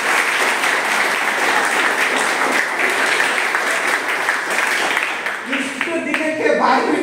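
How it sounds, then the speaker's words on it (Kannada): A classroom of students claps together in sustained, dense applause close by, steady for several seconds, with a few voices heard near the end. "Very good. ಬಡಿಲೇ ಚಪ್ಪಾಳೆ."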